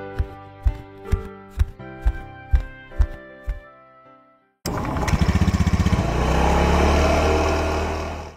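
A Honda Vario motor scooter engine starts suddenly after a run of sharp rhythmic knocks and then runs steadily, loud and close, with a constant buzzing drone.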